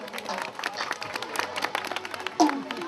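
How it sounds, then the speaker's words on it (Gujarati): An audience claps at a garba prize announcement, with a continuous patter of hands mixed with crowd noise and a voice speaking over it. "હા તાળીઓથી વધાવી"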